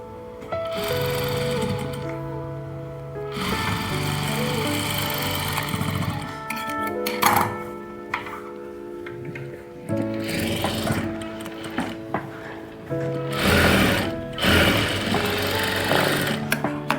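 A sewing machine stitches a blouse sleeve seam in bursts of steady mechanical whirring, with short pauses between runs, close and fairly loud with no talking.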